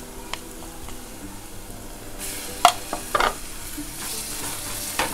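Ginger garlic paste goes into onions frying in oil, setting off a steady close sizzle that rises midway, with a few sharp spatula taps and stirring scrapes.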